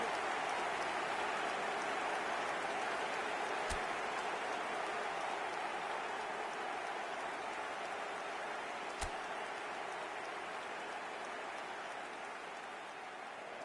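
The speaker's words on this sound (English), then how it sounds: "We have heavy rain." Heavy rain in the eFootball video game, a steady dense hiss that holds evenly throughout, broken only by a couple of brief sharp clicks.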